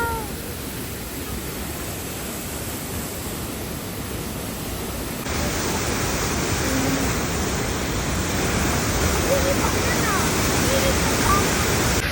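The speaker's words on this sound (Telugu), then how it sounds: "వాటర్ ఫాల్కి ఎంత దగ్గరలో ఉన్నాం చూడండి" Dense, steady roar of a waterfall close by, a broadband wash that grows slightly louder partway through and never lets up.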